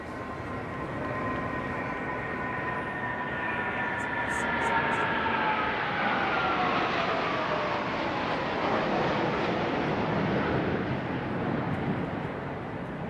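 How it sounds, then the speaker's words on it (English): An RAF Voyager air-to-air refueling tanker flanked by two Typhoon jets from 12 Squadron passes over a Trooping the Colour flypast, a loud, sustained jet roar whose pitch slides downward as the aircraft go by. "Next, we have the Voyager, the RAF's sole air-to-air refueling tanker aircraft. And on each wing of the Voyager is a Typhoon from 12 Squadron,"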